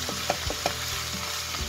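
Ground meat frying in a pan over lowered heat, a steady soft sizzle with a few scraping stirs of a utensil against the pan, close and alone with no talking.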